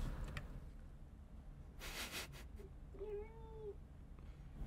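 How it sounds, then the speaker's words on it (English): A house cat gives a single short meow, fairly near and moderately loud, over a steady low room hum, with a brief rustle shortly before it. "Bob is the Galdern cutest cat."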